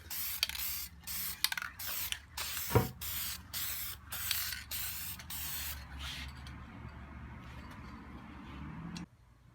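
An aerosol can sprays a liberal coat onto a surface in a run of short, close hissing bursts with brief gaps and faint clicks, then the spraying tapers off into quiet.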